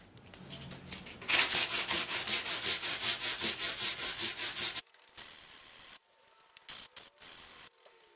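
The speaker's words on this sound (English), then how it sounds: "start sanding this bit here" Hand sanding of wood on a homemade Pac-Man arcade cabinet build: a run of quick, rhythmic rasping strokes, loud and close, about a dozen back-and-forth passes, then a few scattered scrapes and brief pauses.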